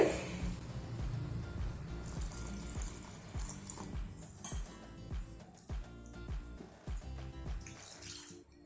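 Water is poured into wet raw rice flour in a kitchen, giving a run of gentle liquid splashes and soft clinks against the bowl, fairly quiet and with no talk.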